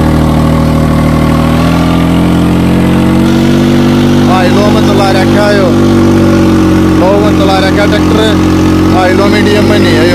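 A New Holland tractor engine runs loud and steady at idle, a deep continuous drone filling the whole stretch, while a person talks over it in the second half.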